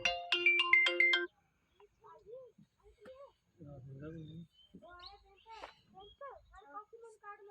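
A mobile phone plays a bright, melodic ringtone loudly for about a second before stopping, followed by people talking quietly.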